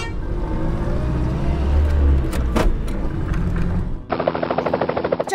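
A toy police car plays a loud electronic sound effect, a rumbling revving motor with clicks and clunks, ending in a rapid pulsing engine drone.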